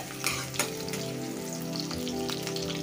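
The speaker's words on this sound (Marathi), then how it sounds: "बघा आपला कांदा भाजायला लागला।" Onion frying in a pan while chicken liver masala is being cooked, a steady close sizzle with a couple of sharper stir clatters near the start and no talking.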